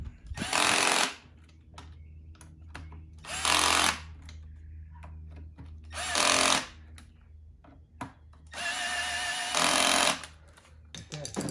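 A power tool, likely an impact gun set to a low torque setting, tightens bolts during a tire change, firing four loud, rattling bursts of roughly a second each, separated by quieter pauses with a low background hum.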